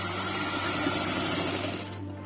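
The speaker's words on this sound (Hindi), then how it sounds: "अब यहाँ से आप थोड़ी सी डबल सिलाई लगा लें" Steady whirring drone of a sewing machine running a double line of stitches along the shoulder seam of a simple qameez, loud and continuous, then slowing and fading near the end.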